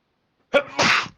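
A single close, sharp sneeze from a player during a tabletop role-playing game session, a quick intake then a loud burst lasting under a second, with no talk around it.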